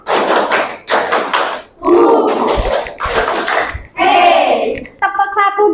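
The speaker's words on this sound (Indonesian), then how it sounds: "Tepuk 1. Tepuk 2. Tepuk 3." Rhythmic hand clapping in short bursts of three in a classroom, with a voice calling out counts in Indonesian between the claps; loud and close.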